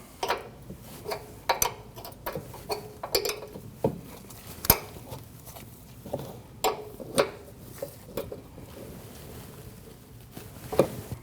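Metal clinks and ratcheting ticks from tightening a nut on a front brake flex hose of a 2012-2021 Nissan NV2500 van, a string of sharp close taps and scrapes at uneven intervals with no talking.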